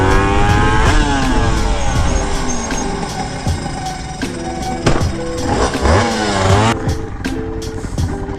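A 636 motorcycle engine accelerating hard at speed, loud and close, with rising whining harmonics that climb through the gears and drop at each shift.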